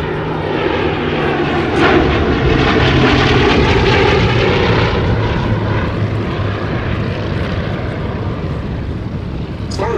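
Bristol Blenheim Mk I twin-engine propeller aircraft flying at the Battle of Britain Air Show, a loud steady droning engine roar close by, swelling slightly as it passes, with faint commentary underneath.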